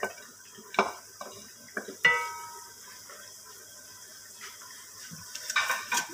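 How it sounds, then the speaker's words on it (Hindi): A spoon stirs achar gosht in a pot, giving scattered scrapes and metallic clinks against the pan, separated by quiet gaps, with a cluster of knocks near the end. "इसको चम्मच को हलाते जाए,"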